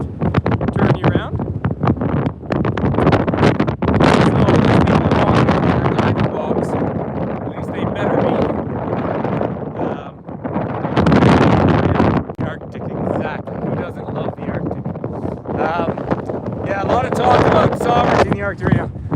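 Strong Arctic wind at a glacier buffets the microphone in a continuous loud roar with gusts rising and falling, and a voice is partly heard under the noise.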